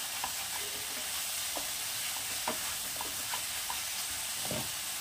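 Potatoes for Bengali-style shahi aloo dum fry in a pan with a constant loud sizzle, while a spoon scrapes and stirs through them in irregular soft knocks, close up and without speech.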